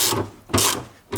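Ratchet socket wrench with a 12mm socket loosening a 12mm bolt on a Toyota Prius during battery replacement, giving three bursts of close, rasping clicks separated by short pauses.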